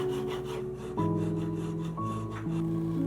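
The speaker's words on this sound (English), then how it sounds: "Some more filing to get it down to a smooth, consistent shape." Hand file smoothing a handmade metal earring, with soft rasping strokes close by under steady tonal background music.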